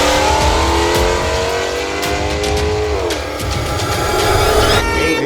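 Drag racing car launching down the strip from the left lane, carrying 190 pounds of ballast, its engine roaring loud and steady with rising pitch sweeps as it shifts up through the gears.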